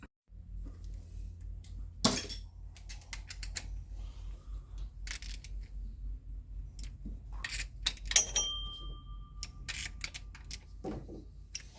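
A hand ratchet snugs bolts on the water pump of a Toyota 4.7 V8 engine, giving fast, quiet clicking runs under a low steady hum, with a few sharper metallic clinks and taps nearby.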